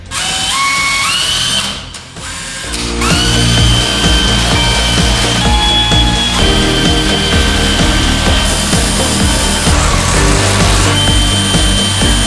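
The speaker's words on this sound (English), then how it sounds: "take this step bit for metal on our drill and drill out those other 2 holes on the top" A loud, continuous grinding whine of a drill with a step bit biting through the metal of a hidden winch mount on a 2018 GMC Sierra, with a brief pause early on before the drilling resumes steadily.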